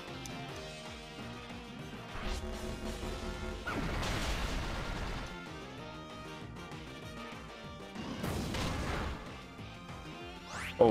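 Throat Chop attack in Pokemon Ultra Sun, a loud game battle effect with crashing, whooshing impacts in two main bursts over background battle music.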